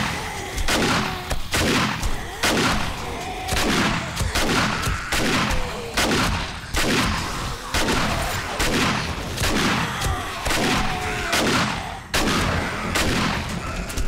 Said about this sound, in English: Let's get the shotgun out.